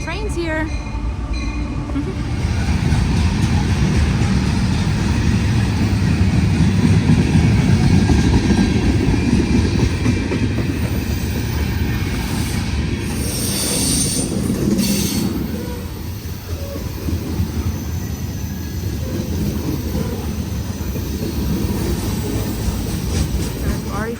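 A train passes close by along the Patapsco River in Maryland, a loud sustained rumble of rolling wagons and clattering wheels with some high squealing, swelling and easing over about twenty-four seconds.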